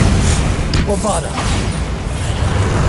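Bombarda blast spell cast in the video game Hogwarts Legacy on PS5, a few sharp bursts and whooshes over a dense, loud backdrop of game combat noise.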